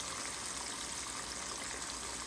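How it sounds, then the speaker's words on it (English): Chicken strips coated in Louisiana chicken fry sizzle steadily in hot oil, a dense, even crackle with no pauses and no voices. "And you can hear them frying."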